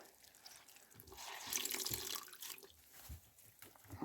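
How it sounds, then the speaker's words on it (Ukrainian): Tap water runs faintly and steadily into a sink while a pet's bowl is washed, with soft splashing and trickling variations throughout. "Помиємо мисочку для неї. і налимо чистої водички."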